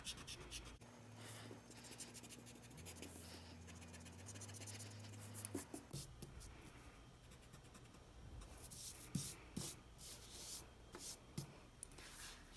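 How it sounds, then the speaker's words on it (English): Pencil lines being erased on paper: faint, close rubbing and scratching strokes, irregular at first under a low steady hum, then quicker back-and-forth bursts toward the end. "I'm going to erase what's inside the box and only leave what is outside"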